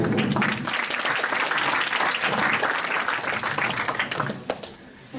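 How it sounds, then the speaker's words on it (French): An audience at an injury prevention talk claps in a strong, dense round of applause that holds steady, then thins and tapers off toward the end, with a few last scattered claps. "vous pouvez applaudir"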